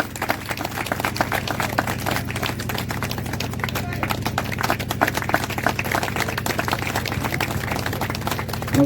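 Loud, dense applause from a church congregation at a wedding fills the whole stretch, with steady rapid clapping and a low hum underneath.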